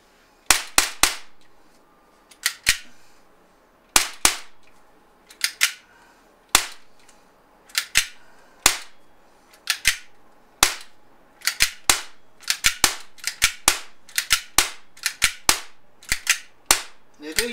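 A RAM combat pistol running on CO2 fires a long irregular string of sharp, snappy pops, singles and quick doubles, close and crisp, with near silence between shots and no talking.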